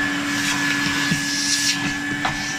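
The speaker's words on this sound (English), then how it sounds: "they can easily buy a vacuum cleaner and do this job at home" A vacuum cleaner pulls dust from the interior of a Tata Altroz during monsoon car cleaning, giving a steady close whine and hiss with faint knocks as the nozzle moves.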